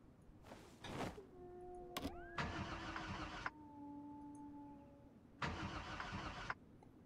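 A car engine in Project Zomboid cranks in two separate bursts, with a starter whine and a steady tone between them, then falls quiet. Nobody talks.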